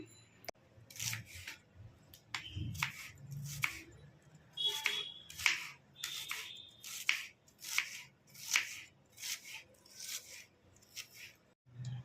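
Onions being cut into medium-sized pieces with a knife on a cutting board, crisp chops landing at a steady rhythm, close by and fairly quiet, with a few faint thumps in between.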